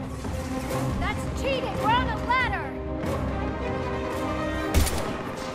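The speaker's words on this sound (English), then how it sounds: "Why shoot something once when you can shoot it 46 more times?" Gunfire in the shooter game Mass Effect 3 Legendary Edition: bursts of shots and sharp impacts, with a louder crack near the end, mixed with sweeping electronic effects and voices in the background.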